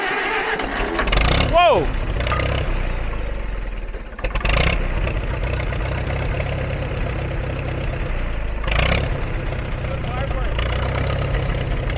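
An old Farmall M tractor engine turns over and catches, then settles into a loud, rough, steady idle close by, with people talking and shouting over it.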